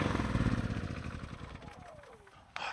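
A generator runs outdoors beside a hot tent during a Bluetti AC200L power station stress test, a loud pulsing engine drone whose pitch drops as it winds down, followed by a short clunk.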